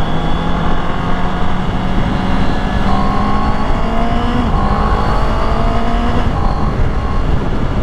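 A 2024 Honda CB650R E-Clutch motorcycle pulls hard under steady loud engine roar, with rising pitch and quick shifts breaking the climb several times, plus constant wind noise over the ride.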